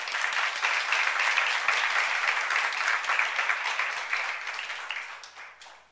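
Enthusiastic applause from a large congregation at a church youth worship service, dense and sustained, then tapering off toward the end.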